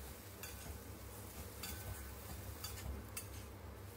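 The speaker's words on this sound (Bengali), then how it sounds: "ভালোভাবে মশলার সাথে এটাকে কষিয়ে নিচ্ছি সয়াবিনটাকে" Soya mince fries with spices in a pan for tandoori masala soya keema, a faint, steady sizzle with a few light scrapes and taps of stirring, quiet and without voices.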